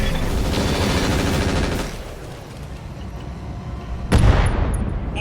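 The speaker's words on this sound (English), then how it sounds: "Firing on target." Mech weapons fire in the RogueTech battle game as a loud burst of rapid gunfire and booms, then a brief lull and a second heavy impact blast near the end, with no talking.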